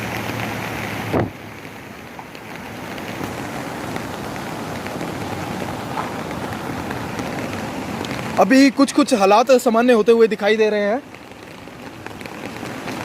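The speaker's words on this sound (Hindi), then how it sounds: "भारी भरकम वर्षा सुबह से ही यहाँ पर निरंतर चल रही है" Heavy continuous rain during a cloudburst in Dharamshala gives a steady outdoor hiss with wind noise, while a reporter talks over it in the latter part.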